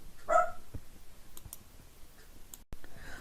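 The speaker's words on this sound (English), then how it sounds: "now that I've got my dog to stop barking" A dog barks once, sharp and fairly near, in a quiet indoor room, followed by a few faint clicks and small knocks.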